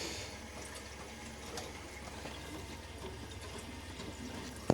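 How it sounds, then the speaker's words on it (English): Water rushes and trickles steadily through central heating pipes after the circulating pump starts on a home boiler system with a newly swapped zone valve, a soft continuous flow sound with no talking, ending in a small knock. "You can hear the water coming through."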